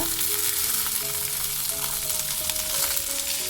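Garlic, tomato and onion fry over medium flame in a pan, giving a steady, close sizzle with faint stirring scrapes throughout.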